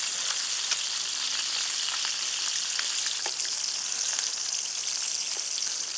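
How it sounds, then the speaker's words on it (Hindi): Fish fries in hot oil in a pan, with a bright, constant sizzle and crackle heard up close and fairly loud, no talk over it. "तो ये 1-2 मिनट एक साइड से इसको फ्राई कर लेना है"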